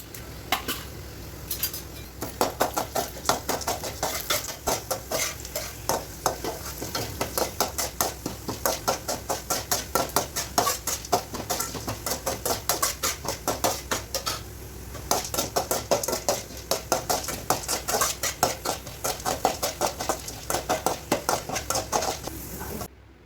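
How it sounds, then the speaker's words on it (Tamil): Dry chana dal being stirred and roasted in a metal pan: a steady, close rhythm of scraping and rattling against metal, with no talking. "ஃபஸ்ட்டு நம்ம கடலைப்பருப்பு வறுத்துக்கலாம்."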